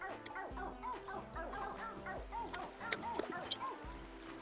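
A cartoonish dog character in the video game Phogs gives repeated short yips and barks over game music, with whimpery squeaks in between, fairly loud and steady throughout.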